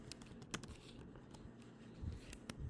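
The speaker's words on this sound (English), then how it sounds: "I'm going to type radius" Fingers tap a computer keyboard in quick, uneven bursts of light clicks, heard close and quiet with no talking.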